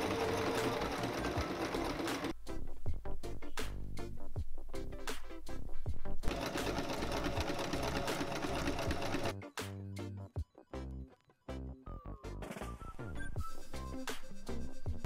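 A sewing machine stitches a seam on a vintage-style summer dress, running steadily and close with a rapid, even mechanical chatter, then breaking into short stop-start bursts before resuming.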